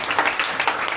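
A congregation at Bethel Prayer House in Ludhiana claps in thanks, giving a brief burst of dense applause from many hands, fairly loud and close.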